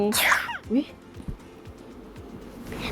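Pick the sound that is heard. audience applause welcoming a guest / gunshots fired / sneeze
sneeze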